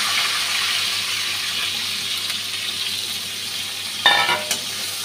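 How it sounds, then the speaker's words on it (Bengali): Onions, bay leaf and green chili frying in a pan, a steady soft hiss of oil sizzling throughout, with a brief clatter and stir near the end. "পেঁয়াজটা ভালোভাবে ভাজা হয়ে গেছে,"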